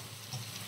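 Gongura (sorrel) leaves frying in oil for a prawn gongura curry, a soft steady sizzle with faint crackles, brief and quiet.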